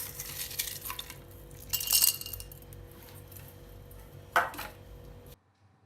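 Clinking of crushed ice tumbling into a glass jar for a mojito, a couple of bright clattering bursts over a quiet background hum.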